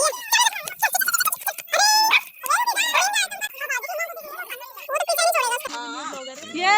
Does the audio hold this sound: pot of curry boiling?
no